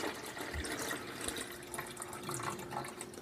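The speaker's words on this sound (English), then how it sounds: "I'm going to pour the water into this attached reservoir" Water pouring into the attached reservoir of a coffee machine, a steady watery trickle and splash held at a constant moderate level for the whole stretch, with no talking.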